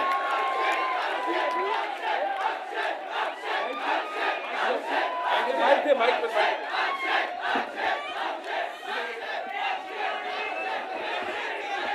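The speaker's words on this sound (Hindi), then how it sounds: "एक बार जोरदार तालियां for the entire star cast of Houseful 4" A large crowd of fans at the Housefull 4 trailer launch event cheers and shouts for the film's star cast, a dense, sustained roar with rhythmic chanting pulses and mixed voices throughout.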